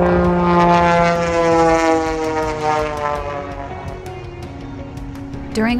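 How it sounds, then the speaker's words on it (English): A propeller aerobatic airplane performs over a beach at CocoCay, its engine note droning loud and then sliding downward in pitch as it passes and turns, with a sharp burst near the end. "During our visit, we were entertained by a special aerial acrobat."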